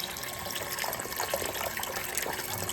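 Water pours and splashes steadily over a Dream Mat sluice mat during gold sluicing, a dense continuous rushing hiss with small trickling bursts, close and moderately loud with no voices.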